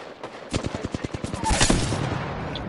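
Rapid burst of gunfire during an Apex Legends match, a quick run of sharp evenly spaced shots followed by a louder, denser stretch of shooting, with no talk.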